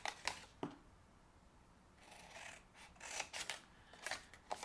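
Scissors cut a paper holiday tote box template up to the score line, giving a few close, crisp snips and short rustling cuts that come in irregular bursts with quiet pauses between them.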